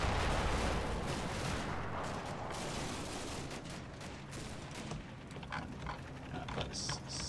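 Distant tank shell fire and mortar rounds from a World War II combat game rumble and crack in an irregular stream of muffled blasts and gunfire, fairly faint throughout with no voices.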